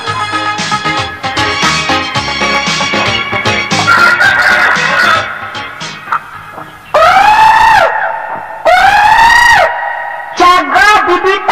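A rooster gives several long, loud crows with some clucking, coming after a stretch of busy music.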